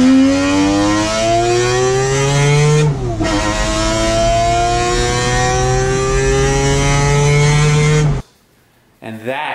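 A naturally aspirated 20B three-rotor engine in a Mazda RX-7 FD revs loud and close, pitch climbing under throttle across two long pulls, then cutting off abruptly into near silence before a brief blip.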